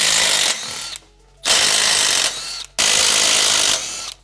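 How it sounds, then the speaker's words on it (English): Impact wrench removing wheel studs from the front hub of a BMW E9X M3: three loud, sustained bursts of hammering rattle, each about a second long, separated by short pauses, close up with no talking. "I'm gonna use my 5 millimeter impact"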